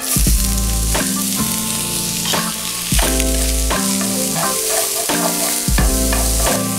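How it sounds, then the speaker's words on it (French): Onions fry loudly in a little hot oil in a saucepan over high heat, a constant close sizzle broken by rhythmic scraping as a spoon stirs them around. "Dans une casserole vous mettez un petit peu d'huile. Voilà, à feu vif les oignons."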